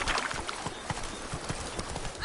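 Roach the horse clip-clops along in The Witcher 3, steady hoofbeats at a moderate pace under a busy, fairly quiet game soundscape.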